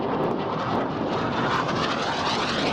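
Aerobatic display jets of the synchro pair passing at the 2008 Waddington airshow, a loud, continuous broadband roar of jet engines that holds steady and full throughout with no pause.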